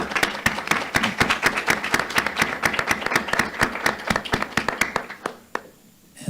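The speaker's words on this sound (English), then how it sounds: "I'd like to have a round of applause for all of the students" An audience at a regular monthly school board meeting applauds the students, a brisk, close round of clapping by a modest group of hands that tapers off near the end before a brief quiet.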